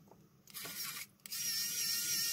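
A Kaiweets ES20 electric screwdriver motor whirs steadily, starting and stopping briefly before running continuously with a high, buzzing whine under load from hanging weights, close by.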